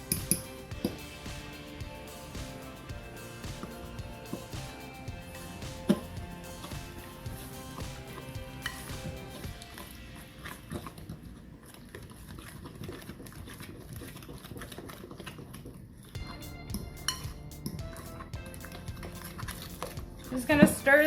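A spoon stirs pecan pie filling with cornstarch in a bowl, making soft, irregular clicking and scraping taps throughout, with a voice talking over it.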